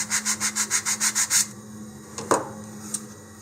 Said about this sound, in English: that's about all the sanding I want to do on a camera here